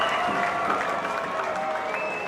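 A steady roar of a crowd cheering and applauding after a try next to the posts in a first grade rugby league grand final, continuous and full, with a commentator's voice mixed in.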